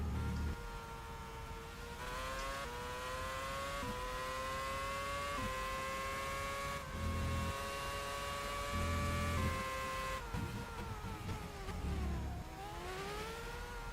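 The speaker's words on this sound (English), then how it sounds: "Taking a gentle dip down through the gears." Race car in the rFactor racing game, an rFormula 2010 car at the Malaysian Grand Prix in qualifying, whining loudly and alone as it steps down through the gears, pitch dropping in repeated stages with brief blips between shifts.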